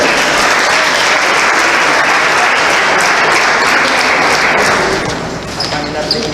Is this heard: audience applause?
yes